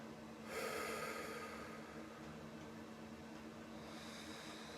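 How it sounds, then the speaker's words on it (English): A slow, deep breath drawn in and let out against a steady hiss of background noise, quiet and close, part of a calm breathing exercise. "So just three deep breaths with me."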